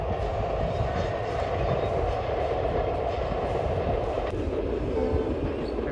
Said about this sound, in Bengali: এই যে ট্রেন চলে গেল